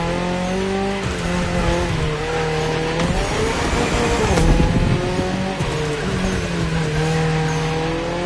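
A Toyota GR86 with a lightweight build and naturally aspirated engine races through neon-lit city streets in The Crew Motorfest, its engine droning steadily with shifting revs and brief tire squeal, loud and continuous.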